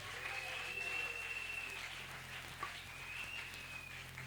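A church congregation at a Sunday service claps steadily throughout, a soft, dense patter of applause in a reverberant hall, with a low hum underneath and no talk.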